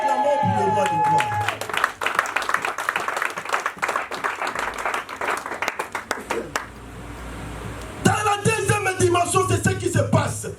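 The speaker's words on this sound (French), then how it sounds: "Acclamons pour le roi de gloire." A church congregation bursts into applause and cheering, dense clapping swelling for several seconds and then fading, with a loud speaking voice breaking in over the crowd near the end.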